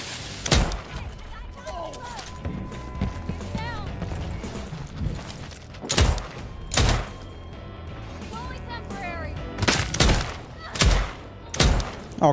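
Loud gunshots ring out in the shooter game Deathloop, arriving as sharp separate blasts and short clusters at irregular intervals, with someone talking in between.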